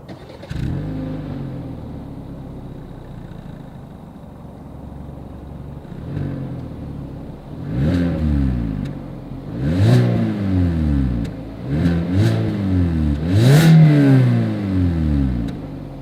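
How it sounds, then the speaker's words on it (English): A 2021 Hyundai Accent with a single exhaust idles quietly, then is revved in a series of sharp blips that grow louder, each rising and falling quickly, heard close and alone. "As always, here is that exhaust clip."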